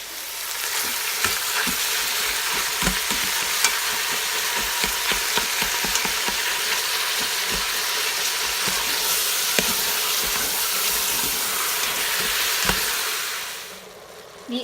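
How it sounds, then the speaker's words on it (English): Loud, steady sizzling and frying hiss of ground venison browning in an Instant Pot, with occasional stirring clicks, continuing for a long stretch before fading at the end. "Watch it sizzle."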